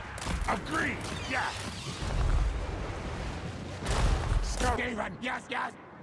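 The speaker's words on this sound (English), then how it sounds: "we'll see what our cannons are shooting at." In the strategy game Total War: Warhammer 3, cannons fire during a battle: deep, rumbling booms and blasts roll in under battle noise, with voices talking over them.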